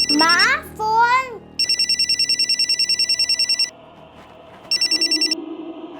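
A telephone rings in a Crime Patrol drama scene with a loud electronic trill, one long burst and then a shorter second one after a pause. Someone speaks just before the ringing starts.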